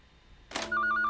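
An old telephone, run only on line power, starts ringing after a short burst of noise, its bright electronic trill pulsing in quick repeated bursts, clear and close with no one speaking.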